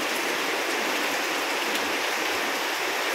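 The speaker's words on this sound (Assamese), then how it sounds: "এই বৰষুণ জাক আহি পালে" A rain shower pours down during an evening Bihu festival outdoors, a dense, even hiss of falling rain close by with no voices.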